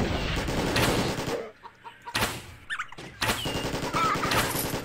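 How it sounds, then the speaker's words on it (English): A chicken clucks in the shooter game Elona Shooter, caught in a dense, loud mix of rapid gunfire bursts and effects, with short quieter gaps between the busy stretches. "Stupid chicken!"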